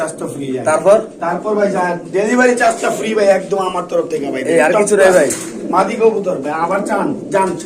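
A pair of Larachara pigeons coo softly in the background while someone talks loudly and continuously close by, his voice largely covering the birds.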